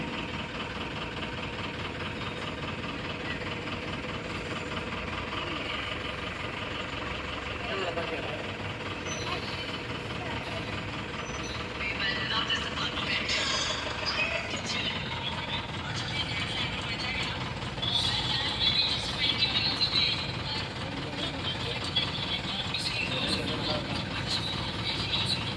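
Idling traffic at the Sriperumbudur toll plaza, with a low, steady engine rumble and mechanical rattles from vehicles waiting in a queue, heard at moderate distance throughout.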